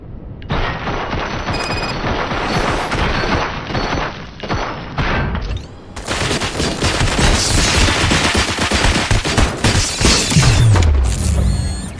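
Rapid gunfire in the video game RoboCop: Rogue City, dense loud bursts of shots with mechanical clatter, a short pause midway, then heavier continuous firing with a descending whine near the end.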